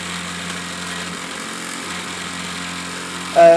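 A Mamod SP1 stationary steam engine runs on gel fuel with a steady, close mechanical whirr and rapid chuffing hum, ending in a brief louder burst.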